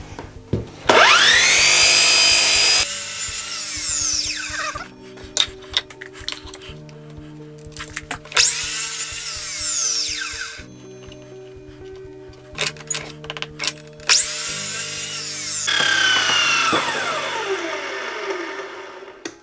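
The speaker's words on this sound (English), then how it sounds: "I've already taken some squaring cuts off the far end. Now we just need to take the pieces down to length." A power saw cutting wood pieces to length in a workshop: three separate bursts of high spinning whine as the blade spools up and bites, with quieter clatter and handling between cuts.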